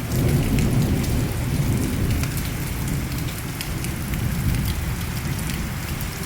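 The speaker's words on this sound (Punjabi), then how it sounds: "ਸਵੇਰ ਦਾ ਮੀਂਹ ਪੈ ਰਿਹਾ 8:30 ਦਾ ਦੇਖੋ ਕਿੰਨਾ ਬੜਾ ਪੈਂਦਾ ਪਿਆ" Heavy morning rain falls in a dense, unbroken roar, loud and close, with a low rumbling undertone and scattered sharper drop impacts. No voices.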